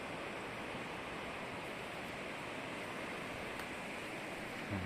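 Dense, steady roar of the Agara River's mountain rapids in a gorge in Adjara, Georgia, heard from nearby, unbroken and even for the whole stretch.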